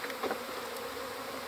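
A swarm of honeybees hums in a steady, even drone, a secondary swarm with a single queen being caught at a hive. The buzzing is continuous and fairly faint, with no voices.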